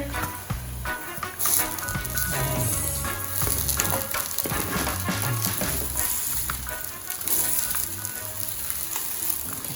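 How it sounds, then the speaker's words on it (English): Partially cooked jollof rice sizzling and crackling in a pot, with scraping stirs breaking through the steady frying hiss at close range. "this rice now is partially cooked. So I'm going to give it another stir."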